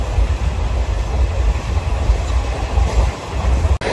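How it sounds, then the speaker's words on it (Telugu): Narasapur–Nagarsol Super Fast Express running past Rayanapadu station, a loud, close, continuous rumble and rattle of the moving carriage with no voices. "ఇప్పుడే రాయనపాడు స్టేషన్ని స్కిప్ కొడుతున్నాం"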